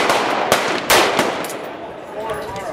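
Rapid bursts of gunfire from a Colt sub-compact weapon, loud and close, a few sharp reports ringing into a wash of echo and noise.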